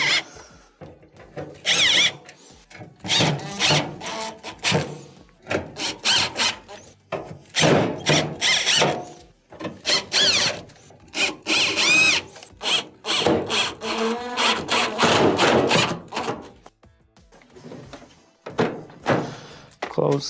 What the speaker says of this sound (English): Reinstall the screws that we took out previously.